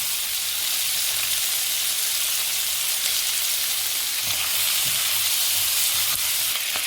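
Vegetables sautéing in oil for shashlik, a steady close sizzle and crackle filling the whole stretch, with faint stirring scrapes.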